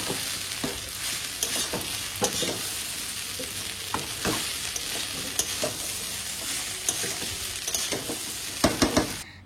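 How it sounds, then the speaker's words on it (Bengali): Potatoes frying and being stirred in a kadai for chire pulao, a continuous close sizzle broken by repeated scraping, clattering stirs that grow busier toward the end. "এবার এটাকে সুন্দর করে ফ্রাই করে নেব"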